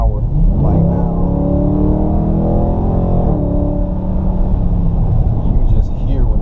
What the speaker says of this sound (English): You can just hear when that motor shifts, man. It shifts so quick and so smooth.